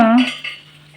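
A metal spoon clinks once against a pan of hot oil while mustard seeds, cumin and dried red chillies are stirred into a tempering for amla pickle, the bright ring decaying into a soft scrape.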